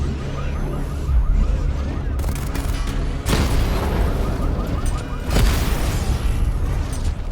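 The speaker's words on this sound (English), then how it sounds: "Destroy targets to charge up weapon energy and activate missile barrage." Missile barrage explosions in the video game Batman Arkham Knight: heavy booms roll out in several loud, close bursts with rumbling tails, over a constant dense wash of game noise.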